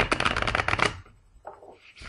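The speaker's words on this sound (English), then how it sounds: "Yes, I shuffle my cards like that." A deck of tarot cards is riffle-shuffled Vegas style: a rapid, close flutter of snapping cards lasting about a second, then a softer rustle as the deck is squared.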